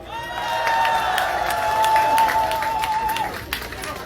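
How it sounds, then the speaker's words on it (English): A large outdoor crowd at the opening ceremony of a Hong Kong dragon boat festival in New York cheers and applauds together, a loud sustained roar with clapping and shouts that fades after a few seconds. "teams, let's have a big cheer"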